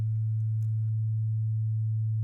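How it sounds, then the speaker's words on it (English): A steady, pure low synth tone holds at constant pitch and loudness, with a faint brief click near the beginning. "Now you can hear the second oscillator playing"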